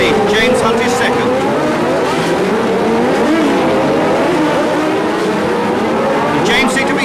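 Formula 1 cars from the mid-1970s grand prix era scream through a tight 35 mph street-circuit hairpin off Shoreline Drive, engines loud and close with rising and falling pitch while a commentator talks over them.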